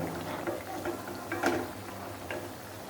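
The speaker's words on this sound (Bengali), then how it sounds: "এবং হালকা ব্রাউন হয়ে আসা পর্যন্ত আমরা এগুলো ভেজে নেব" Biscuit pitha frying in hot oil, a low steady sizzle with soft crackles and occasional ticks of the pan, close by and moderately quiet, with no talking.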